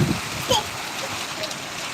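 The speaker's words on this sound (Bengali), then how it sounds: "আমাদের গাজীপুর জেলাতে আজকে বৃষ্টি হচ্ছে" Heavy Baishakh rain falls in Gazipur, Bangladesh, a dense, steady hiss of rain on surfaces heard close by, with a brief voice at the start.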